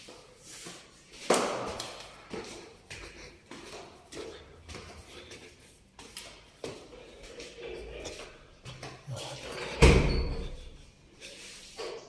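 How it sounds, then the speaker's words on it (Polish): A door in a large house in Luxor, Egypt is shut with a loud slam near the end, preceded by an earlier softer knock, amid quiet indoor shuffling and handling noises. "A jeszcze i tak muszę przyjść zamknąć drzwi"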